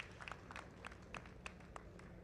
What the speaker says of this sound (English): let's have a big round of applause for all of our 65-plus men team sprint